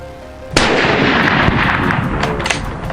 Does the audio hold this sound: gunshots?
yes